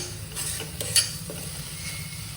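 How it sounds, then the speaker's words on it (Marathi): Oil sizzles quietly as a chickpea curry masala is sautéed in a pan, a soft steady crackle with a few light stirring scrapes close by, and no voices. "हळूहळू याचं तेल सुटायला लागलं आता छान परतून घेतलं"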